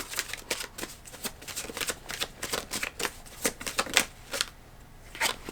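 A deck of tarot cards being shuffled and drawn, heard as a close series of crisp, rapid riffling flicks in irregular bursts with short pauses between them.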